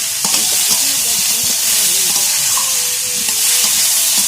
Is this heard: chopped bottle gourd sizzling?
yes